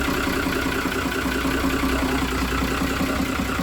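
Iveco Aifo marine diesel engines running in a boat's engine space, a loud, steady low rumbling drone with an even idling throb and no pauses.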